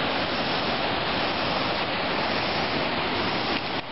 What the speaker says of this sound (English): I'm right on top of the waterfall here